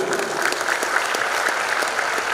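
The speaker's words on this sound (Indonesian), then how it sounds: "Kita tepuk tangan dulu." An audience at a mathematics training session in Sorong applauds, dense continuous clapping at close range that holds steady throughout the short stretch.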